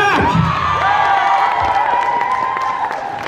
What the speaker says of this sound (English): A round of applause for Psycho Jack!